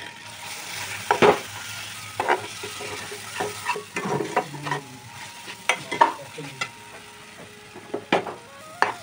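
Masala paste fries in oil in a pan for a giant prawn malai curry, with repeated scraping stirring strokes over a soft sizzle and no talk.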